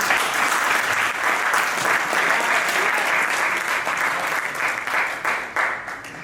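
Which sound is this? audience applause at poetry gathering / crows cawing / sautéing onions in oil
audience applause at poetry gathering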